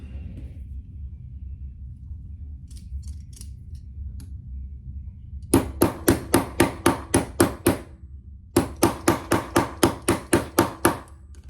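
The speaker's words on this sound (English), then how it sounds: "And I'll grab my little hammer." Low rumbling background, then two quick bursts of sharp, evenly spaced taps from a small hammer punching a hole in a handbag, about seven or eight strikes each, close and crisp.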